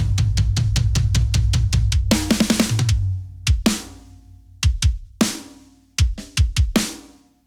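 Drum shell bus with kick, snare and toms from the direct mics, clipped for loudness: a steady run of punchy kick hits, then a dense snare and tom fill, followed by sparse, loud hits with ringing decays.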